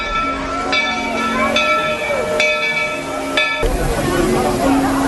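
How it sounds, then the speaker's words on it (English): The Walt Disney World Railroad steam train pulls into the Magic Kingdom station, hissing steam under a busy park crowd, with several short bell-like tonal blasts ringing out in sequence as people chatter nearby. "here comes the train"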